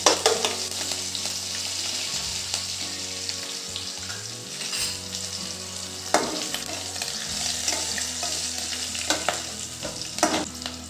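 Curry leaves frying in oil while being stirred, a close, busy sizzle and spatter with irregular louder pops and scraping bursts throughout.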